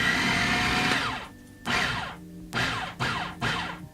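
A blender pureeing a potato mixture for Ukrainian latkes, a loud whirring motor run, then several short pulses that wind down between bursts, with no talking.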